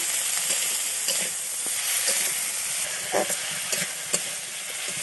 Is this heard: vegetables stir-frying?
yes